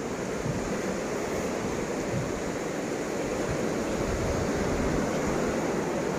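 Sea waves surge against a rocky shore near a cave, a loud, continuous roar of surf and spray with wind noise, steady throughout with no voices.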